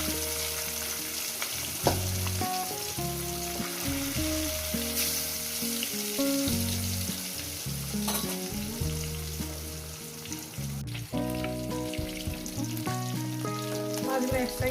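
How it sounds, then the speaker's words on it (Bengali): Rohu fish pieces fry in hot oil, giving a loud, steady, close sizzle that runs without a break throughout, with background music playing underneath. "বাদবাকি মাছগুলো একেবারে ভেজে নিয়ে দিচ্ছি।"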